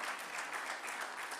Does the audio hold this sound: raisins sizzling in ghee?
no